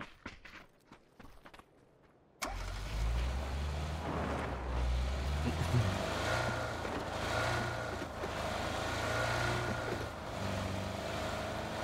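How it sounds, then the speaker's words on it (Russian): Engines of cars driving in PUBG rumble low and steady after a brief quiet start, with faint clicks and shifting motor noise throughout. "Машины спереди едут"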